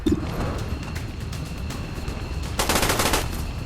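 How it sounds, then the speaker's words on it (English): Submachine-gun fire in the video game XCOM 2, finishing off a sectoid at close range: a rapid, loud burst of shots near the end, following softer game ambience. "Just go for that close range SMG finish off on the sectoid."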